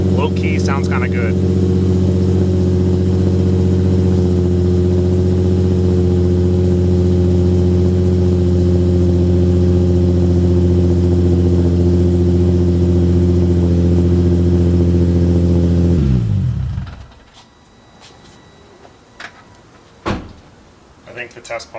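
A Nissan 350Z fitted with Circuit Werks exhaust test pipes holds a loud, steady, droning idle up close, then shuts off abruptly, leaving quiet shuffling and a few sharp knocks and clicks afterward.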